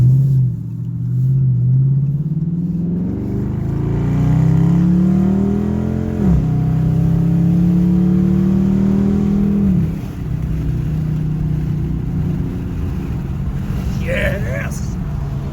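A 2019 Dodge Charger R/T fitted with new mufflers pulls hard on a highway, its exhaust rising and dropping through gear changes from a close, steady engine drone.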